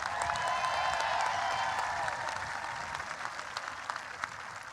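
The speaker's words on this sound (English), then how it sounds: "May I please have a round of applause for our Homewood Flossmoor band conducted by Miss Sarah Whitlock." At a Homewood Flossmoor High School graduation ceremony, a large audience applauds the school band, a broad, even wash of clapping heard from a distance in a big hall, gradually easing off.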